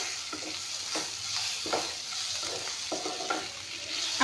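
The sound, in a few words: fish heads frying in a pan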